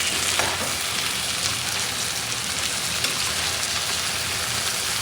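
Potatoes frying in oil with salt and turmeric, a steady dense sizzle and crackle close by, loud and continuous without speech.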